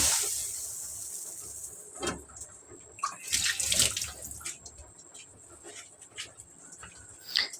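Water poured in small amounts onto pork simmering for chopsuey, a hissing splash with bursts of pouring and sizzling, near and fairly loud, no talk.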